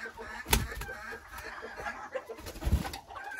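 A Belgian porcelain bantam hen makes soft low clucks near the microphone, a few short sounds amid quiet background bird noise, with a couple of louder thumps and no clear speech.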